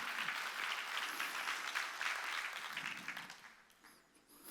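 A church congregation claps together during a Korean Wednesday worship service, steady rippling applause from a crowd that fades toward the end.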